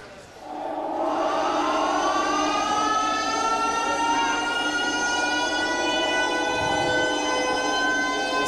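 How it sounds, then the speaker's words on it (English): A loud siren sounds as a cyclone warning at a boxing event, a sustained rising wail that swells in and holds a steady, harmonically rich tone to the end. "Sirens are sounding, the cyclone warning"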